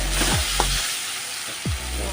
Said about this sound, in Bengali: এবার চিকেনটা এর মধ্যে দিয়ে ভালো করে কষাতে হবে